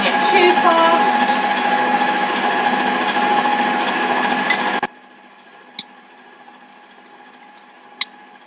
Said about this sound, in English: on a sort of a low to medium setting. You don't want to be whisking it too fast.